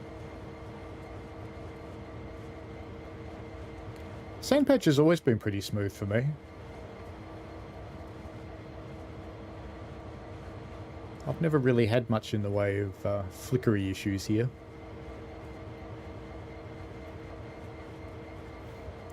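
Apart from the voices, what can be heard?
train running in the video game Train Sim World 2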